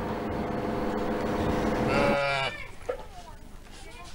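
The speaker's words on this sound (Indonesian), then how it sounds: "eta domba anakna anu ukur boga panon hiji teh" A newborn one-eyed lamb in a village in Sumedang, West Java, gives a long wavering bleat close by, which breaks off into quieter background noise with a faint second cry.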